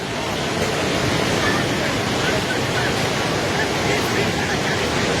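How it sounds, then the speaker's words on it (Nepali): Loud, steady roar of the rushing, flooding Trishuli River in Nepal with surging waves, a dense wash of noise that continues unbroken from start to finish. "हेर्नुहोस् त त्यहाँ छाल"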